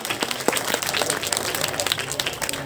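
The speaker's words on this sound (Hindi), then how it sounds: "जोरदार तालियों के साथ इनका स्वागत किया जाए।" An audience applauds at a school foundation day and grandparents day celebration at Kendriya Vidyalaya in Kasra, a dense, moderately loud patter of many hands clapping steadily throughout.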